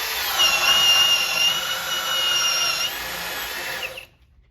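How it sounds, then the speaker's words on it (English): A drill boring a hole with a 1/2 inch Diablo self-feeding auger bit, a loud steady motor whine under load for about four seconds before stopping abruptly, with no talking. "And now I'm gonna do one hole with the 1/2 inch Diablo self-feeding auger bit"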